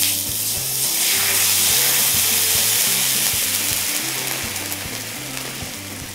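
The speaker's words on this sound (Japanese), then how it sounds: "このまま熱い状態の時に赤ワインを注ぎます。" Red wine poured into a hot pan of freshly seared beef for a gluten-free beef stew bursts into a loud, steady sizzle and hiss that holds strong for several seconds, with faint rhythmic stirring or scraping underneath, no talking.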